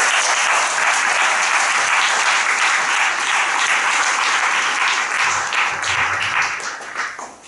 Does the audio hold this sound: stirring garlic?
no